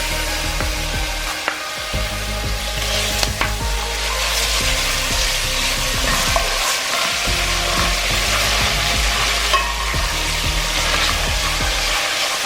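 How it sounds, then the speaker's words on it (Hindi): Garlic and ginger sauté in hot oil for a badami gosht, a steady, close sizzle with scattered stirring scrapes and clicks running throughout. "सबसे पहले हम ऑयल में लहसुन अदरक को थोड़ी देर सौटे करेंगे।"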